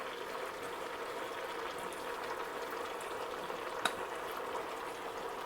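Shrimp sizzling with cabbage in a pan over medium heat, a steady soft frying hiss with faint bubbling throughout and one brief small click near the end.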